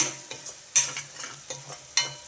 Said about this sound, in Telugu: ఉల్లిపాయలు చక్కగా వేగిపోయినాయండి